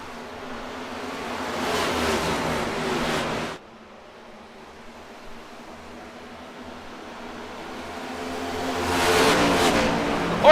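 Race cars roar off the start of a race at Auto Club Speedway in Fontana, a loud, sustained engine wash that drops away mid-clip and then swells back as the pack passes again, with no talk.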